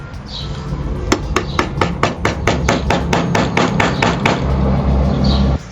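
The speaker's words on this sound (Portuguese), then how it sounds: "eu vou dando formato, arrancando pedaços da madeira" Hand tools chop pieces from knotty wood during luthier woodworking, giving a steady run of about fifteen sharp, close knocks in even rhythm, with no talk over them.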